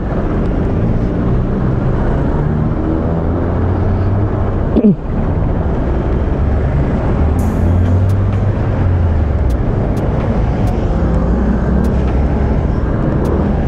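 Dense road traffic makes a loud, continuous rumble of engines close by, with a brief whooshing vehicle pass partway through.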